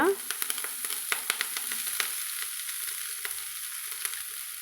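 Chopped greens are stirred into sautéed onion in oil. A soft, steady sizzle runs under repeated light spoon clicks and scrapes against the pan, with no talking.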